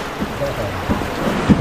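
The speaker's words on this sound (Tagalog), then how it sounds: "Lakas ng ulan." Heavy rain pours steadily in a rural Philippine province setting, with low rumbles of thunder rolling through the downpour and no talk over it.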